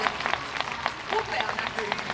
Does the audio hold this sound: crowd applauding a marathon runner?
yes